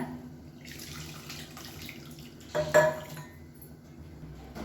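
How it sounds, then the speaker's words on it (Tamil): Tamarind water poured into a pot of radish sambar on the stove: a short splashing pour near the end, fairly quiet against faint kitchen background noise. "ஆன் பண்ணிவிட்டு புளி தண்ணி வந்து சேர்த்துக்கலாம்"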